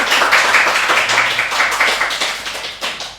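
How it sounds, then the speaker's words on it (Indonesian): A talk-show audience applauds, a dense, loud and continuous clapping from many hands that fades slightly toward the end. "Tepuk tangan dulu sekali lagi."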